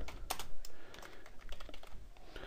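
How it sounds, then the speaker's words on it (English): Computer keyboard keys typed in quick, irregular clusters, close and fairly quiet, while entering a password during Gmail account setup in Microsoft Outlook 2010, with no one speaking. "type in your Gmail password"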